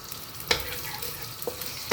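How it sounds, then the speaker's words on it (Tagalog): Shrimp and egg stir-frying in hot oil with Chinese sausage, a steady close sizzle broken by a few sharp scraping clicks of the spatula. "Stir fry hanggang mag-crispy."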